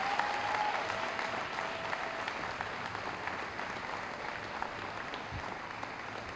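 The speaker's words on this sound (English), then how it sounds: "give a huge round of applause to all of our parents and families that have supported us throughout our journey in high school" Applause for parents and families at a 2018 high school graduation ceremony: a large crowd clapping steadily in a big space, dense and even, held at moderate level throughout.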